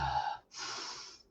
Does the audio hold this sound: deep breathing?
yes